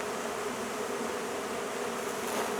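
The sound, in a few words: swarm of honey bees fanning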